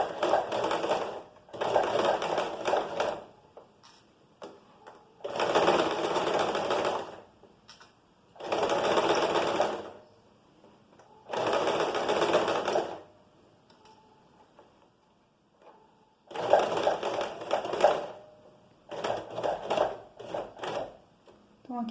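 Sewing machine stitching the neckline seam of a top, in several bursts of steady running separated by short pauses where the needle is left down and the fabric turned around a curve.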